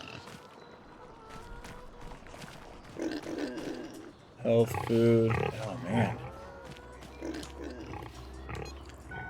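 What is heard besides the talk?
pigs grunting on a ranch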